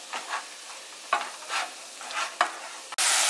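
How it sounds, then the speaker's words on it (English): Ground beef stuffing sizzles in a frying pan as it is stirred, a steady frying hiss broken by scraping spoon strokes, ending in a sudden loud surge of sizzle. "we're going to add some of our flavoring, some of our seasonings to our ground beef stuffing"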